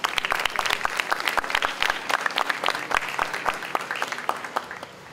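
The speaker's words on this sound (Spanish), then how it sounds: "Lo recibimos con un aplauso, por favor." Audience applause at a peace ceremony in Tarata, a steady round of many hands clapping for about five seconds, moderately loud and fairly close, with no one speaking over it.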